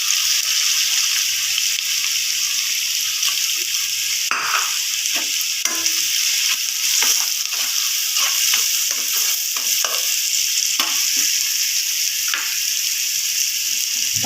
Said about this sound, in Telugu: అందులో కొంచెం ఉల్లిపాయలు వేసుకుందాం.